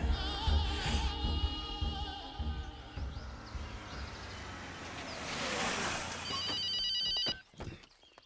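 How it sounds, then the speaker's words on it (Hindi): A telephone rings through a tense scene in a Hindi action film, its repeated electronic tone sounding over music and a rushing, surf-like background wash before cutting off near the end. "भैया, डीएसपी का फोन है"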